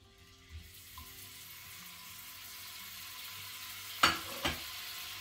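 Butter melting in a warm pan for a rhubarb cake gives a faint, low hiss that builds gently. A soft knock comes early, then two sharper utensil clatters near the end, with no talking.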